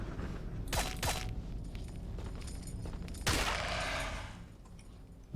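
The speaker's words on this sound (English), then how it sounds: "while these guys are shooting us in the face" Enemies firing at the player in the video game Legend of Grimrock 2, two bursts of rapid shots, the second longer and louder, over a steady low game background.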